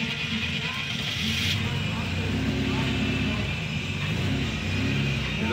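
A rusty old Soviet Moskvitch car rumbles loudly and steadily as it pulls away, its engine drone continuous and close, with someone speaking over it.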